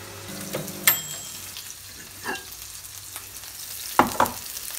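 Food is stirred with a big spoon in a student's kitchen, giving soft scraping and clinks with a few sharper knocks against the pot over a faint background sizzle.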